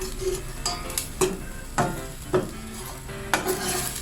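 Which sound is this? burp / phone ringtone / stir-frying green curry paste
stir-frying green curry paste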